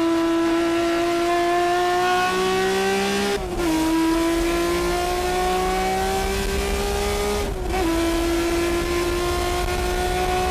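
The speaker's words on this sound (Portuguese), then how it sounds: "aquele motor girando bem alto tivesse um ronco bem estrondoso" A Nissan Skyline Hakosuka with a naturally aspirated engine revs hard and close, its pitch climbing steadily through two brief gear-change dips, loud and uninterrupted.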